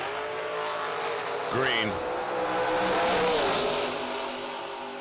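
Drag race cars launching hard at a summer drag racing event, engines revving loudly with a brief tire squeal and a rising roar that swells and fades, with an announcer talking over the noise.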